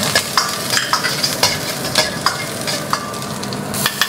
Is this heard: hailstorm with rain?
no